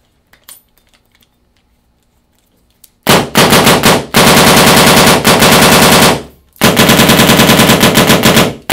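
Rapid bursts of loud, close mechanical firing from a Planet Eclipse Gtek or SP Shocker RSX paintball gun, a quick staccato stream of shots in two long strings separated by a short pause, after near silence.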